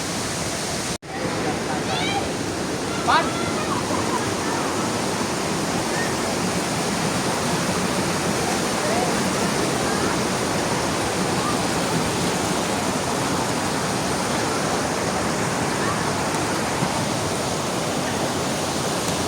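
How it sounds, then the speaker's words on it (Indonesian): The Grojogan Sewu waterfall pours steadily in a loud, unbroken rush of white noise, with faint voices briefly audible near the start. "aku lagi di sini nih, di air terjun Grojogan Sewu"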